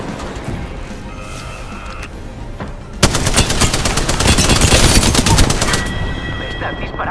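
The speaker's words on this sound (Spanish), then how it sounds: "¿Me estás disparando?" Rapid automatic gunfire in Apex Legends during a train-station fight, a dense burst erupting midway and hammering on for a few seconds over ongoing game noise.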